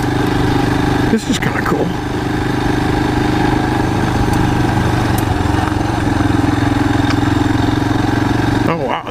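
Royal Enfield Himalayan motorcycle engine runs with a loud, steady drone while being ridden off-road on gravel, and a rider talks briefly over it.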